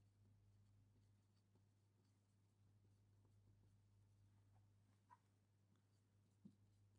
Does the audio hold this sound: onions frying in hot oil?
no